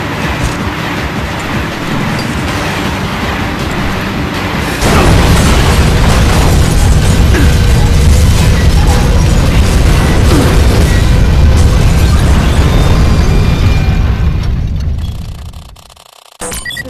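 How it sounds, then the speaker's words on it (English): A train derailing and crashing with explosions in the action game Vanquish, a loud sustained roar and rumble with booming impacts that swells, holds, then drops away abruptly near the end. "The track is damaged! We're derailing!"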